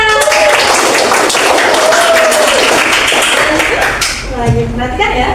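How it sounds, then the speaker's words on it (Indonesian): A school class claps their hands together during a science lesson, loud overlapping claps filling the room while a voice speaks and sings over them throughout. "Tepuk tangan."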